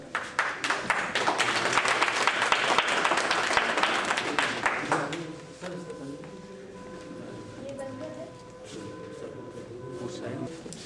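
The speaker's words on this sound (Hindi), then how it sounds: "तालियां बजाते रहिए भाई।" Lively clapping from an audience at a painting exhibition event fills the first half, loud and rapid. It then fades out, and voices talk over a quieter background.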